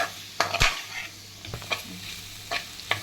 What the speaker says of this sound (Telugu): ఇది బాగా కలుపుకొని బాగా అన్నీ కలిసేలాగా కలుపుకొని